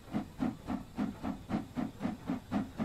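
A Stanier 8F steam locomotive in a train simulator hisses steadily from its safety valve, with a soft rhythmic chuffing pulse running through the sound at moderate volume.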